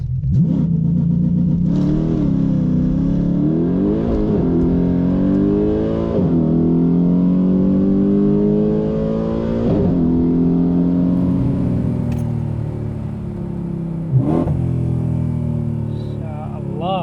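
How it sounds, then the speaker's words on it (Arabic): A naturally aspirated 6.2-litre V8 in a Mercedes C63 AMG Black Series revving hard, loud and close, pitch climbing through sustained pulls with brief dips between, someone speaking over it at times. "سامعين الصوت؟ شو هذا AMG، الله على الإبداع."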